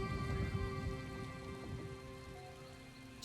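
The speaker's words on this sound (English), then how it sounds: "I could do without this damnable rain. It's been storming since we arrived, and it shows no sign of letting up." Steady rain patters and hisses in the fantasy video game Elder Scrolls Online during a storm, a soft, even wash of falling drops with no voices over it.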